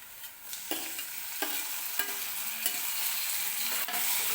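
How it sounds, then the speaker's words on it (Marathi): Tomatoes sizzle and fry in hot oil with roasted onion for a Maharashtrian tur dal and onion dish, a steady crackling hiss broken by regular scraping stirs of a spoon against the pan. "तर मी आता याच्यामध्ये टोमॅटो टाकून घेते."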